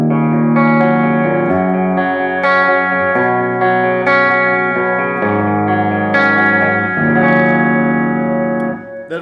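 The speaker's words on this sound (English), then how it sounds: "Let me demonstrate some clean tones." A 1986/88 USA Jackson Strat-style electric guitar on a clean tone through its bridge pickup, playing a sequence of ringing chords and notes with light reverb, loud and up close with no talking.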